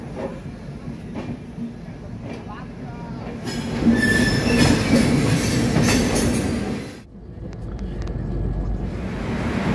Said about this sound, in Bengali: 5টা 45 মিনিটে ট্রেনটি ছেড়ে দিল হাওড়া স্টেশন থেকে।